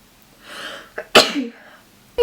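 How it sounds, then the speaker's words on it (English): A woman sneezes while doing her makeup: a soft drawn-in breath, then one sharp, close sneeze, followed by a short sniff and the start of another burst. "Why is it that doing your makeup always makes you sneeze?"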